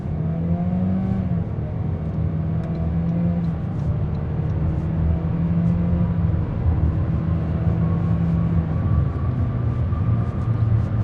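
A Toyota Corolla LE with a CVT accelerates up a highway on-ramp, its engine holding a steady, droning tone that climbs slowly and stays loud and continuous throughout, with no talk over it.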